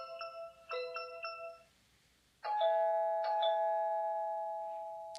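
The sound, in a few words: Tapo camera chime test sound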